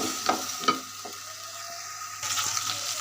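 Taro pieces lightly frying in a pan, giving a soft, close sizzle with a few spoon stirs and scrapes, fairly quiet and without any voices.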